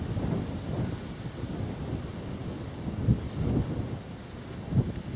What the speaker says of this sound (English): Damn wind out here.